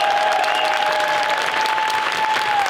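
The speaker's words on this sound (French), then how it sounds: "Un tonnerre d'applaudissements, s'il vous plaît, pour Lucie." Enthusiastic audience applause fills a large arena during a mentalism show at the Zénith de Strasbourg, steady and dense clapping throughout with a sustained tone running beneath it.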